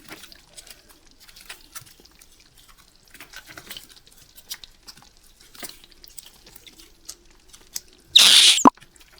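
Squishy taba cherries are peeled from a wet silicone mold, giving a string of soft, close sticky clicks and wet pops, then a brief loud hiss-like rush near the end.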